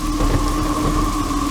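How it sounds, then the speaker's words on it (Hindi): Heavy rain pours in a steady, loud wash with a low rumble of thunder beneath it, continuous and close, with no voices. "अरे रे, इतनी बारिश क्यों हो रही है?"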